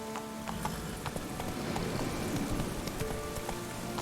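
Roach the horse gallops in The Witcher 3, a rapid rhythmic clip-clop of hooves that stays steady and fairly close throughout.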